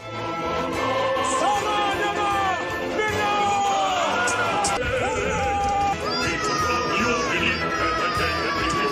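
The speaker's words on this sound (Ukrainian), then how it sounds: "дітки в військовій формі СРСР біжать з криками Ура!" Children in Soviet military uniforms charge forward in a staged battle reenactment for a TV series, shouting 'Hurrah' together in loud, overlapping group yells over running footsteps and crowd noise.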